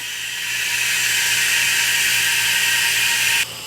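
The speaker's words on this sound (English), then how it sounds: "So I just need to add some air here, and we just pump it up." Air being pumped in to push fluid into the MCT transmission of a 2010 Mercedes E63 AMG coupe: a loud, steady rushing hiss with a faint mechanical whir, holding constant close up until it cuts off abruptly near the end.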